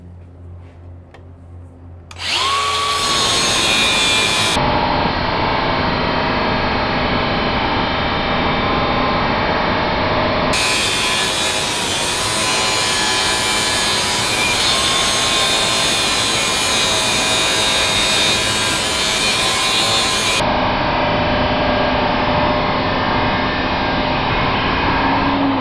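An angle grinder cuts through torque-balanced steel sea cable with a loud, continuous high-pitched grinding whine that holds steady for over twenty seconds, its tone shifting slightly as the disc bites, close up with no talking.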